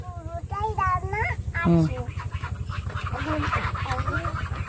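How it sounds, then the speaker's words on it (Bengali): A line of domestic ducks heads home after grazing, with loud, repeated quacking and honk-like calls close by, and people talking over the flock. "হাঁসগুলো দেখ সব লাইন দিচ্ছে, বাড়ি চলে আসছে"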